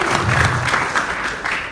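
Audience clapping during a sales presentation on Milagros products, after being told not to clap: a brief, fairly loud burst of crowd applause that holds and thins slightly toward the end.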